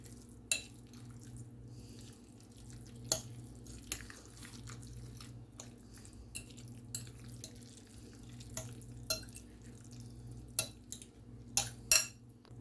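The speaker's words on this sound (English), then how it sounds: "I'm going to mix." Shepherd's pie ingredients with a tater tot topping are mixed in a dish, with soft, scattered scrapes and clicks of a utensil over a low, quiet background, no voices.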